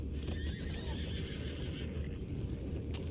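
A horse whinnies faintly amid low ambient rumble, with a few soft hoof clops in the background, in the video game Red Dead Redemption 2.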